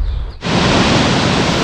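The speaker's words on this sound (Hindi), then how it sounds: "ये देखिए भाई, झरना कितना खूबसूरत है, एकदम लाजवाब झरना।" A waterfall near Pana village in Chamoli, Uttarakhand, a loud, steady broadband roar of rushing water that swells in abruptly and stays constant.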